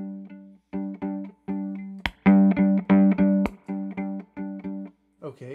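A violin runs through a Rat distortion pedal, playing a string of separate bowed notes that each come out gritty and harmonically thick, loud and clear, with a short burst of talking at the very end.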